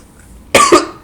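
A man coughs twice in quick succession, loud and close, after a quiet moment.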